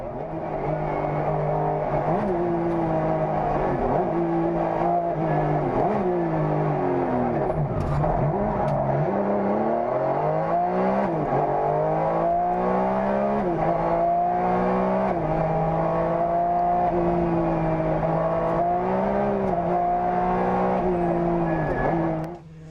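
A Porsche 996 GT3 rally car racing flat out on a closed stage, its engine loud and near, revving up and down through gear changes with rising and falling pitch sweeps, continuous for the whole stretch.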